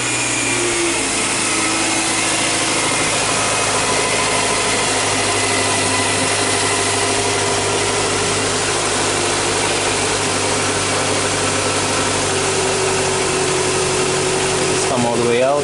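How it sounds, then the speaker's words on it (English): 2008 Nissan Sylphy with O2 heater circuit faults running at a steady idle, a constant close engine hum with a brief higher whine near the end. "So let's start the vehicle up and see what's good."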